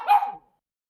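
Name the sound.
dog barking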